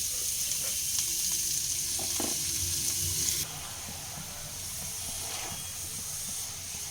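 Loud, close sizzling and hissing of fenugreek greens frying in butter in a hot pan, with stirring scrapes; the hiss drops noticeably partway through, then settles.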